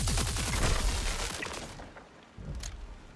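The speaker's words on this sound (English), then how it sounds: "Also, I'm hearing shotguns." Shotgun fire in a video game, a rapid flurry of sharp blasts fading into a rumbling tail, then another single distant boom.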